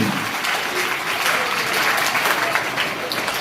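Schoolchildren keep up sustained, dense applause at a Republic Day school program in Birabhati. The clapping is fast, even and loud from start to finish.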